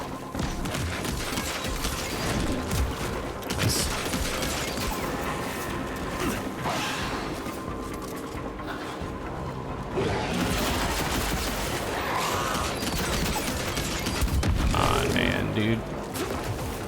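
Evil West video game gunfire plays as rapid, dense shots mixed with mechanical clanks, grunts and crashing impacts, loud and nearly continuous, with players talking over the action.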